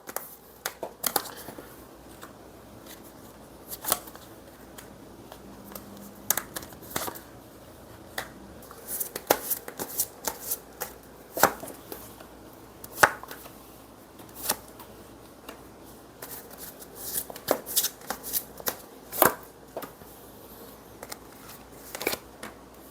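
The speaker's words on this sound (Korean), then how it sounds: "우리 2번님 카드 한번 뽑아 볼게요." Tarot cards shuffled and drawn by hand, a series of crisp, scattered flicks and slaps of card stock at an uneven pace, close and quiet against a faint hum.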